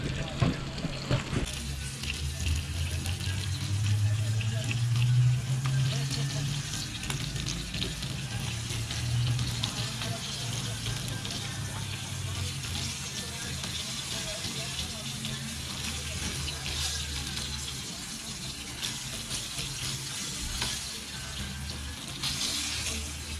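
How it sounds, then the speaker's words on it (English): A small, freshly caught ocean fish fries in hot oil at an outdoor cookout in Trinidad. The dense, steady sizzle continues without pause for over twenty seconds, loud and close, with a louder low crackle near the start. "Fried fish, boy, freshly caught in the ocean over there, and we're cooking it right here."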